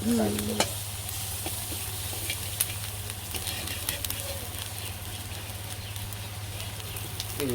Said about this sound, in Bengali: আর এদিকে আমাদের মাংস কষানো চলছে